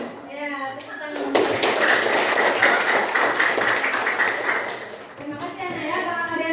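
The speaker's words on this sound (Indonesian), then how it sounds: "tepuk tangan" A class of children at an Indonesian school claps hands together, a burst of dense, fairly loud clapping lasting several seconds, framed by spoken voices before and after.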